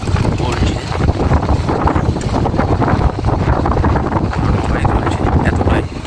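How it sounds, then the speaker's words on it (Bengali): Stormy wind buffets a rocking boat at sea, a loud constant roar of wind noise and water with no clear break. "এতটাই ঝড় উঠেছে দেখতেই পাচ্ছেন"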